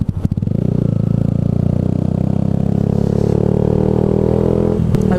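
A motorcycle exhaust rumbles loudly and close at a steady idle, giving a continuous low throbbing drone with faint clatter at the start and end.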